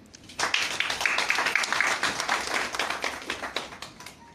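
Dense applause from a dinner audience in Dakar, many hands clapping together in a steady, full burst that swells quickly and holds for several seconds before easing slightly, with no talk over it.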